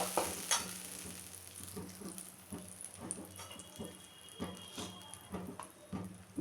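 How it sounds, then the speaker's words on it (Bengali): Spice paste for a rohu fish curry fries quietly in a pan with fenugreek seeds. Soft sizzling sits under intermittent scraping stirs and occasional light taps, with no talking. "দিয়ে এবার মশলাটাকে কষিয়ে নেব।"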